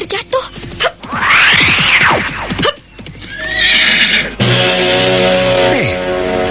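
A horse whinnies loudly and close in a long, rising then falling neigh, followed by another shrill whinny and snorting, with a wounded man riding it and no one speaking over the sound.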